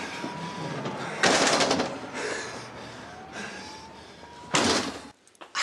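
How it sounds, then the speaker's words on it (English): Doors slam shut in a tense domestic scene, two loud broadband bangs with rattling, the second followed by sudden quiet, over background noise. "Close the doors."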